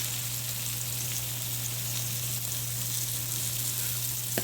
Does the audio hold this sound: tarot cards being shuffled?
no